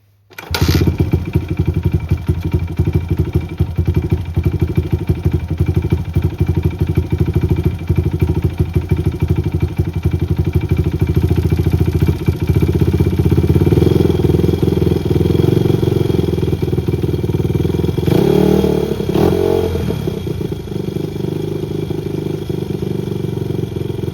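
A Honda XR100 motorcycle, freshly tuned up, starts and runs steadily at close range with a loud, buzzy single-cylinder drone and mechanical clatter, rising briefly with a few throttle blips before settling back toward idle.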